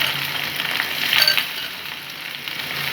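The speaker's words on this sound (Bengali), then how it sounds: "ফোড়ন পুড়ে গিয়েছে, এখন আমি কুমড়োগুলো দিই।" Raw pumpkin pieces frying in hot oil over burnt tempering spices for kumror chhokka, a dense close hiss of sizzling, swelling briefly in the middle with a light clink.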